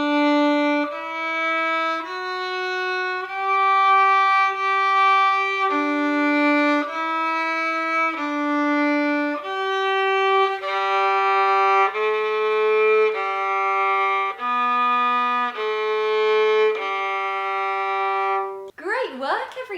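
A violin plays a simple beginner melody using first, second and third finger placements, a steady sequence of clear bowed notes at moderate loudness, alone, ending with a short noisy scrape.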